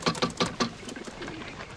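Pigeons or doves coo in a few soft, rounded calls close by at the start, then the calls fade into a quieter murmur of birds.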